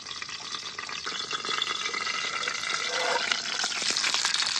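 Stuffed green chillies cook in a pan over a low flame, giving a steady soft frying sizzle that grows slightly louder and denser as it goes, close and alone with no talk.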